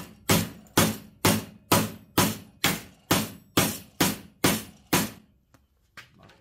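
Ten sharp, evenly spaced hammer blows on metal ring out loud and close, each with a brief metallic decay, followed by a few softer taps.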